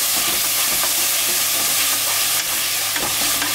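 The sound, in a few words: onion and green chili paste sautéing in a pan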